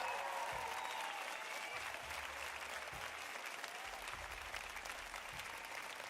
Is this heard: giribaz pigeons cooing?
no